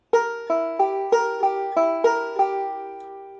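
A plucked banjo runs through a quick reverse roll picking pattern, about eight bright, ringing notes in a steady rhythm, played alone and close.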